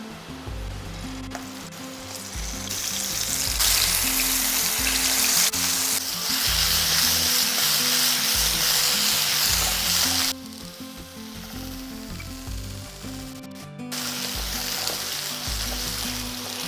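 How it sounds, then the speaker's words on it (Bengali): Pieces of pointed gourd (potol) drop into a tablespoon of hot oil in a pan, and a loud, steady sizzle swells up, then falls quieter for a few seconds before rising again. "তেল গরম হয়ে গিয়েছে, এরপর পটলগুলো একে একে দিয়ে দেব।"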